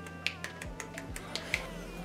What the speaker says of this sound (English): I can clap with one hand.